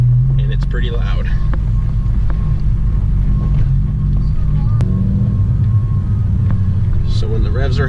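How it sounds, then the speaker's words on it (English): A 2017 Honda Civic fitted with a catless downpipe and muffler delete drones loudly while driving, a heavy low exhaust rumble held steady throughout, with brief voice-like sounds near the start and end. "figured I'd go for a test drive, and it's pretty loud."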